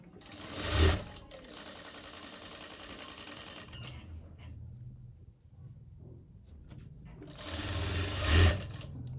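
A sewing machine runs a steady stitching burst along buckram on a blouse, then stops, with handling noises in the pause before a second run starts. Each run begins and ends with a loud thump.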